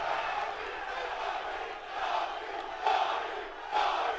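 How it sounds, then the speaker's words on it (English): Crowd at a UFC 309 press conference cheering, yelling and chanting, a dense continuous roar of many voices with louder surges near the end. "Crowd going nuts."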